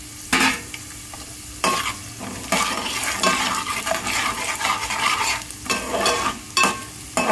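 Multicoloured lentils fry for rice rava upma, sizzling loudly in a pan as a spoon stirs and scrapes them in repeated rough strokes with brief pauses between.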